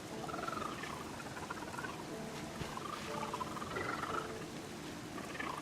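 Dolphins sing in the underwater video game Submerged, with repeated chirping, squeaky calls rising and falling in waves over a constant dense game-audio background.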